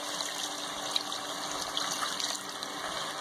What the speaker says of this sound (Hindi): और डालेंगे 1 ग्लास पानी